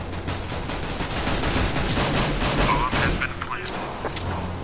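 Rapid gunfire in a competitive CS:GO matchmaking round, dense bursts of shots crackling close and loud across the whole stretch, with a player's voice talking over parts of it.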